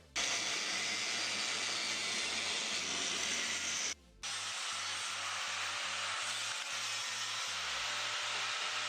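Metal seat brackets for NRG race seats being shaped in a shop corner, a steady loud grinding hiss that runs continuously with one brief pause near the middle, over a low rhythmic pulsing hum.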